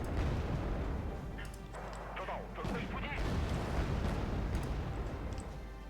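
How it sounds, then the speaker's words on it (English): Cluster bomb explosions in the war game Wargame Red Dragon rumble as a dense, distant series of muffled booms and crackles over a low, steady roar, with someone speaking faintly underneath. "Cluster bombs didn't hit anything."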